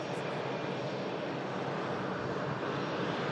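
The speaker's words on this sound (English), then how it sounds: "another lovely heavy departure on the way out. This is the Virgin Atlantic flight for New York JFK" Heavy Virgin Atlantic airliner departing for New York JFK, a steady broadband engine roar that holds loud and constant throughout with no voices.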